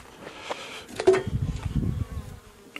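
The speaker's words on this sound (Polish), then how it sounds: "O, pszczoły się tu zwabiły." Bees drawn to beeswax being melted in an apiary in March buzz nearby, with faint, intermittent wing hums and a couple of louder passes close by.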